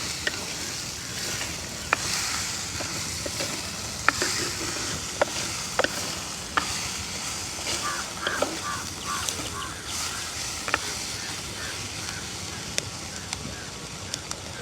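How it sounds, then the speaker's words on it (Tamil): Cleaned dried anchovies stir-fried with brinjal in a pan make a steady, close hissing sizzle, punctuated by sharp clicks and scrapes of a spoon on the pan at irregular intervals. "கழுவி துப்புரவாக்கி வச்சுருக்கிற நெத்தலி கருவாட்டையும் போடுவோம் இதோடு சேர்ந்து"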